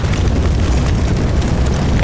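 Explosion from a drone strike in Sevastopol, heard as a loud, dense roar that fills the whole short stretch without letting up, with no voices.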